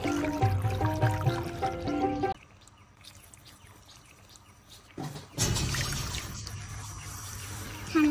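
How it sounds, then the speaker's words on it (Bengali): Water pours into a pot of taro (kachu) leaves for boiling, a brief trickling pour at the start that stops, then a louder splashing pour resumes near the end. "পানি দিয়ে দিচ্ছি সিদ্ধ করার জন্য।"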